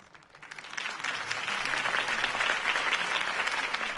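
A crowd breaks into applause that swells quickly and holds as a dense, steady clapping for several seconds.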